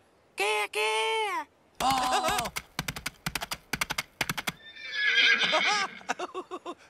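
In a Teletubbies cartoon, characters voice a horse: a high drawn-out whinny-like call, then a quick run of rhythmic clip-clop clicks, then a wavering neigh, all made by voices imitating the horse.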